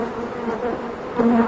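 A steady, close buzzing of many calm honeybees at a hive, droning continuously and swelling slightly louder toward the end.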